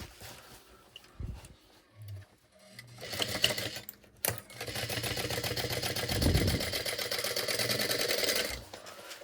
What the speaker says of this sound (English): we're going to sew these at 1/4 inch